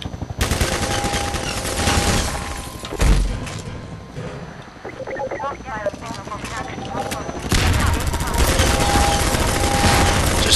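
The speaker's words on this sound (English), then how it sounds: "Just keep shooting with this gun." Rapid gunfire from the video game Half-Life 2 crackles in dense bursts, a sustained automatic fusillade that briefly thins in the middle and then resumes heavily, with game effects layered in.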